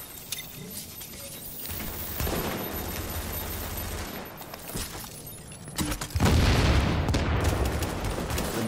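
Sniper and other gunfire in The Division, a third-person shooter game: sharp shots and bursts, with a sustained loud barrage near the end and a few rattling impacts, no speech.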